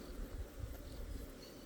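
Honeybees buzz at a beehive where robber bees from another apiary are raiding, a faint, continuous low drone of many wings with a slight wavering flutter.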